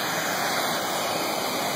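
A municipal waterfall in a small town about 40 km from Belo Horizonte roars as a steady, loud broadband wash with no breaks, close by and unaccompanied by voices.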